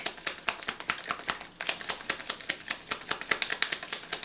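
Tarot cards drawn and shuffled from a deck, a steady run of quick, close papery flicks and snaps with short pauses, fairly loud throughout with no voice.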